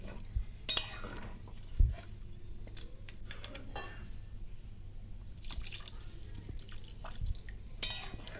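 Water is poured onto rice in a pan while cooking muri ghonto, heard as short splashing and dripping bursts with faint clinks of utensils, close and fairly quiet, with no voices.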